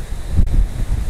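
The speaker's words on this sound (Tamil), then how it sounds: "காற்று சூப்பர் காற்று" Strong wind gusts through swaying trees on the grounds of a French castle during windy season, a brief, close buffeting rush that rumbles against the microphone.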